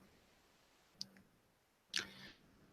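A computer mouse clicks twice in a quiet room, a single sharp click followed about a second later by a louder, slightly doubled click.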